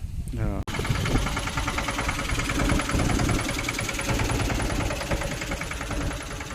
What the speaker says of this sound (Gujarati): અમારા ઘરે નવું ટ્રેક્ટર આવ્યું